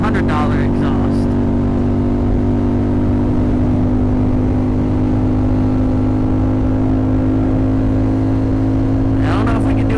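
Yamaha FZ07 motorcycle fitted with a cheap aftermarket exhaust, running loud and steady with a deep, sustained engine drone throughout, with brief higher revving bursts at the start and end.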